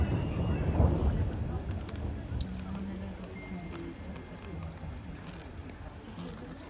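A deep rumble of thunder swells at the start and slowly fades, leaving a steady background hush with faint bird calls, outside a church in a Hutsul ethno park at Bukovel in the Ukrainian Carpathians.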